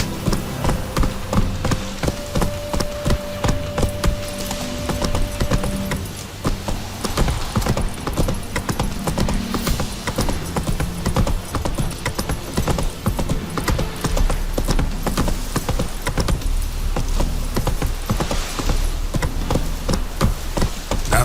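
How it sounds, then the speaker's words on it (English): Hooves of a horse galloping in the video game The Witcher 3, a steady rapid clip-clop under continuous loud game music and ambience, with no pause across the span. "so fast, Roach."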